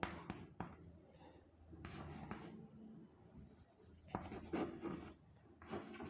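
Chalk or marker strokes on a classroom board, a series of short scratchy scrapes and taps in irregular bursts, faint and close, with no talking.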